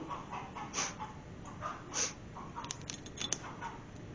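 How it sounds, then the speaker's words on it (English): Chickens cluck and squawk in short, scattered bursts, fairly faint and a little distant, over a low background hum. "I don't know what them chickens are doing, but they're sure making a lot of noise."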